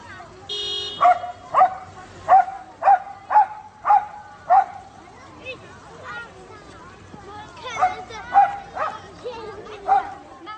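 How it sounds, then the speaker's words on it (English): A dog in Georgia barks at passing traffic, giving a series of sharp, regular barks in two bursts separated by a short pause, fairly close and clear, with no talk. "This dog is a local celebrity in Georgia because it always barks at traffic"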